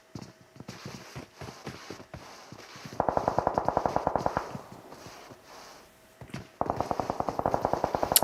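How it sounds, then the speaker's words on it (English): Automatic gunfire in a PUBG Mobile pro scrim match: scattered shots early on, then two loud, rapid bursts of automatic fire with no talking. "I hear shots coming in from the background"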